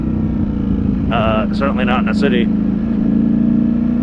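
A 2022 Ducati Streetfighter V4S engine runs with a steady low drone on a New York City ride, loud and close under the rider's voice, which talks over it throughout.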